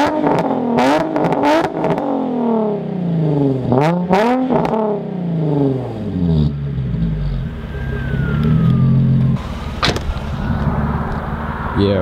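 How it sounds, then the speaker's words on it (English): A Nissan 350Z fitted with a Tomei Y-pipe exhaust revs hard several times in quick succession, loud and close, with sharp rises and falls in pitch, then settles into a rumbling idle with another blip near the end. "Couple of quick revs for you guys and then I'll be out of here."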